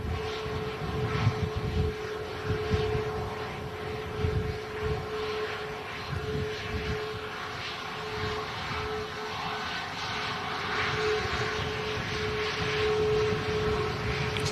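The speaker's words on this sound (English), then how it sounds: "It's a good looking aircraft though." Jet airliner engine roar at Manchester Airport, a steady broadband rumble with a sustained tone that swells gradually as the plane passes, heard from a distance with no talking.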